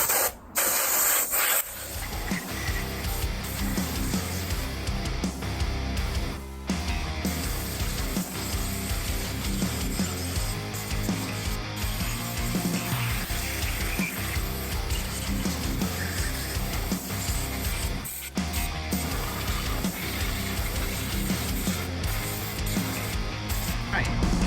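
Compressed air from an airline blasting through the oil gallery holes of a Rover V8 engine block: a loud, continuous rushing hiss that runs almost the whole time, with a few brief dips where the nozzle pauses.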